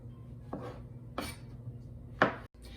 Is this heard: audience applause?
no